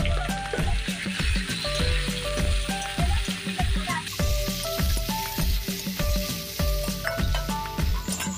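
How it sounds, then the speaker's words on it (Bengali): Prawns fry in hot oil in a wok with a continuous, lively sizzle and crackle. Rhythmic background music plays beneath the frying throughout. "তেলটা গরম হয়ে যেতেই দিয়ে দিচ্ছি চিংড়ি মাছ।"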